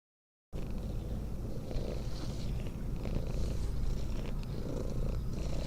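A cat in a video game purrs close and steady, a continuous rhythmic low rumble that starts abruptly after a moment of silence and carries on without talk.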